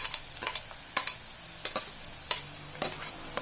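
Green chilies and ginger-garlic paste fry in a pan under a constant bright sizzle, broken by about half a dozen sharp spoon scrapes and stirs at uneven intervals, close and alone without any voices.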